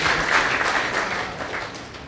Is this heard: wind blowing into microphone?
no